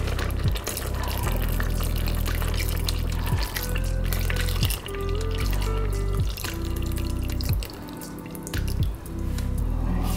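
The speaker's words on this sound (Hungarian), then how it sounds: "Még egy kis vizet is engedünk hozzá" Water runs and drips into a pot of milk-thickened fruit soup as it is diluted, a steady trickle with droplets lasting several seconds, with sustained tones playing underneath.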